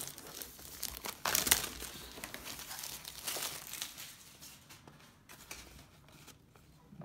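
Cardboard and plastic packaging of a Magic: The Gathering Ixalan bundle box crinkles and tears as it is opened, a steady close rustling with a louder rip near the start, with no talking.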